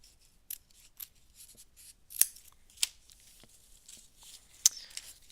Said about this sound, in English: Actually, I'm going to cut so I don't end up over tearing.